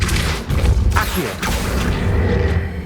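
Accio summoning spell cast in Hogwarts Legacy, producing a loud, dense burst of magical whooshing with deep booming rumbles and mechanical clanks that carries on for the full few seconds.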